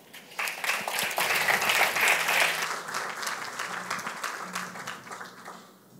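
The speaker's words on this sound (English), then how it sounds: "Now, please give a warm applause to Jessely Rose Ong from the Philippines" An audience at an award ceremony claps warmly. The applause swells quickly, holds steady, and then tapers off gradually, with a few faint voices heard under it.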